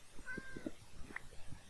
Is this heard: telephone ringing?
no